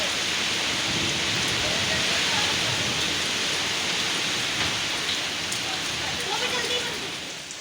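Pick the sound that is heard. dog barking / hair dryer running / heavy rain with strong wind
heavy rain with strong wind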